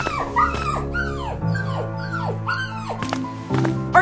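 A wild dog in the Roblox Brookhaven game yips and whimpers in a string of rising, falling cries over a steady low hum, close and fairly loud.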